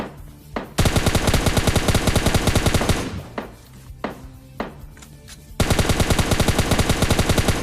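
Rapid automatic gunfire in PUBG Lite, loud bursts of dense repeating shots separated by a short pause and scattered single cracks, then sustained fire resuming.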